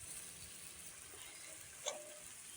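Chicken frying in a pan as it is stirred, a faint, steady sizzle with one soft scrape partway through, with no talking.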